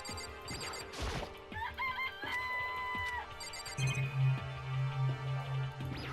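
Chickens in a coop in the Danganronpa video game cluck and crow over game music, with bursts of effects and a repeating pulsing tone in the second half.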